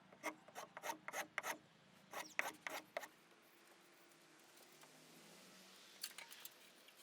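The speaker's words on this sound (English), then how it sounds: "I'm chamfering the end of the rafters just to tidy them up a bit, and I'm using my homemade spoke shave," A homemade spokeshave chamfers the ends of wooden rafters on a chicken coop frame, giving a few quick bursts of dry rasping strokes with short pauses between, fairly close and otherwise quiet.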